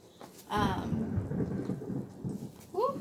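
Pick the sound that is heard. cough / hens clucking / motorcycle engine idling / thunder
thunder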